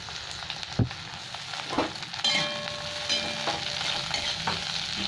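Tomato added to fried onions spits and sizzles in oil, a steady close hiss broken by a few sharp stirring knocks and scrapes, with no talking.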